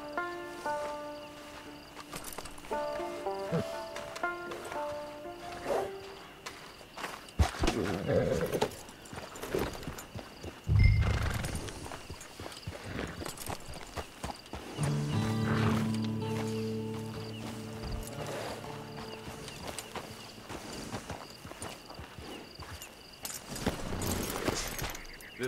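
Hoofbeats clop along with occasional horse whinnies in a video game, mixed over game music and ambience, growing louder around the middle with a few sharp thuds.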